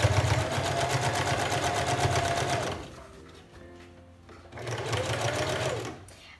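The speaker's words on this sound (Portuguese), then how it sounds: "eu já vou fazer um retrocesso para dar uma firmezinha" A domestic sewing machine runs steadily at high speed while backstitching a trouser back pocket, pauses briefly, then sews again at full speed, loud and close.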